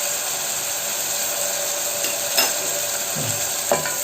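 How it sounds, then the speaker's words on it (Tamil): Onions sautéing with a pinch of salt in a pan for tomato rice, a steady close sizzle with a few scraping stirs of a spoon against the pan near the end. "இப்போ வெங்காயம் நல்லா வதங்கட்டும்."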